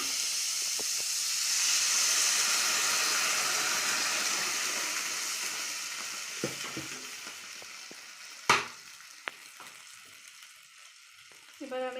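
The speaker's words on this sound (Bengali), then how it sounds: "জল ঢেলে দেবো।" Hot pan of Karamcha (Bengal currant) chutney giving a loud, steady sizzle and steam hiss after water is poured in, fading gradually, with a few clinks of utensils near the end.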